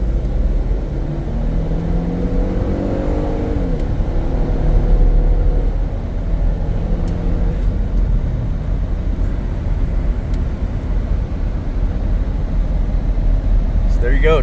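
Highway cruising inside an AWD twin-turbo 365 hp Ford Police Interceptor Utility, a steady low road and engine rumble running throughout, with someone talking over it.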